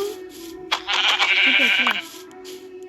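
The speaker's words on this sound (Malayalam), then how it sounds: "അത് ആട് നിൽക്കണു" A single wavering Minecraft goat bleat, loud and close, rises over a steady electronic hum, lasting about a second.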